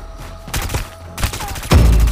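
Bursts of gunfire in the Omega Legends video game, a few scattered shots early on and a louder volley near the end, fairly close and short.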